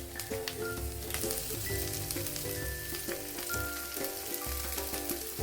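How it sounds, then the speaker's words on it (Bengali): Ground green peas added to a pan where ginger has been frying make a steady, moderate sizzle with occasional scraping, and a tonal ringing hum sits in the background without speech. "এখন আমি দিয়ে দেবো কড়াইশুটি যে পিষে রেখেছি"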